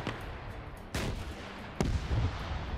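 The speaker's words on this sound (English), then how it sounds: "I don't know why you do that when you hear all that gunfire" Gunfire in a PvP military video game battle: a few sharp, fairly close shots with booming tails, spaced about a second apart, over a low background rumble.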